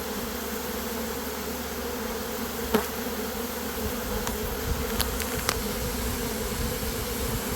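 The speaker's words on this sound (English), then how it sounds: "the swarm contains tens of thousands of bees, and they're just pouring out of there" A honeybee swarm streams out of a beehive entrance by the thousands, a dense, steady buzzing hum filling the space close up, with a few faint clicks and taps over the drone.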